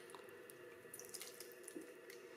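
A little water poured into bread dough, a faint, soft trickle and light splashing for a couple of seconds, quiet and close with no voices.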